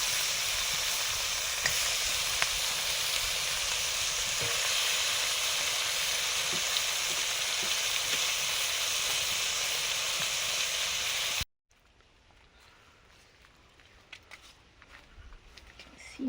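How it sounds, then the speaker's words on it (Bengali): Fish frying in a small amount of oil in a wok (kadai), a dense, steady sizzle and hiss close by that runs for about eleven seconds, then cuts abruptly to a much quieter background with faint scattered sounds. "এই মাছগুলো ফাটে প্রচুর কড়াতে দিলে"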